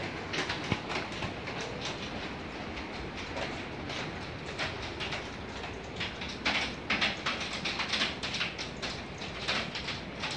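Hail drumming on the roof of a house in August, heard from indoors as a dense, irregular rattle of sharp knocks over a continuous muffled roar, fairly steady and close overhead.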